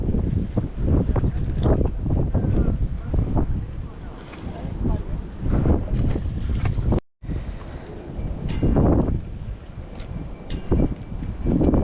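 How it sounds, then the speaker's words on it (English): Strong wind along the California Aqueduct buffets the microphone in loud, rumbling gusts almost nonstop, with a brief drop to silence partway through. "it's so windy today"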